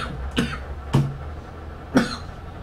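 Three separate coughs from one person, close and fairly loud, spaced about a second apart in a quiet room with no talking.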